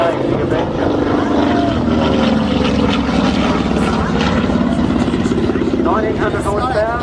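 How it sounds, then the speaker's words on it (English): A 1900-horsepower R-2600 radial engine on a TBF Avenger warbird drones loudly and steadily at an airshow, a rumbling roar that fills the whole stretch, with a voice speaking over it. "1900 horsepower, radial engine"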